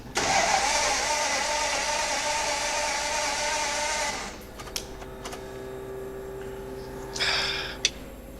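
A custom car's engine cranking over alongside a loud fuel pump, a harsh sustained whirring roar for about four seconds that cuts off abruptly, followed by a few clicks and a brief second burst.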